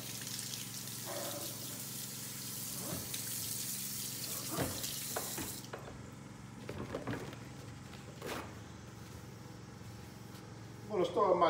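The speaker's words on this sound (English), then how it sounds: "I can spray that water down on it." Water sprays from a sink sprayer in a steady hiss for several seconds, rinsing a gun part during bluing, then cuts off, followed by scattered clinks and handling noises.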